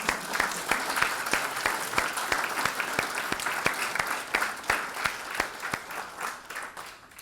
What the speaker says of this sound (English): I think we deserve a clap here.